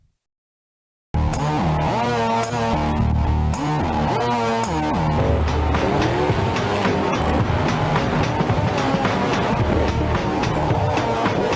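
Engines roar and tires screech as monster trucks race in Roblox Monster Jam, a dense, loud, continuous game soundtrack with revving motors and overlapping vehicle noise, no voices.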